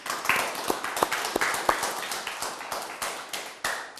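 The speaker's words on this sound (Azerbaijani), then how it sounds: "Bir yenə də gürültülü alqış edək." A small studio group claps during a televised lottery draw, a sparse, fairly quiet run of distinct hand claps with an uneven rhythm, individual strikes standing out.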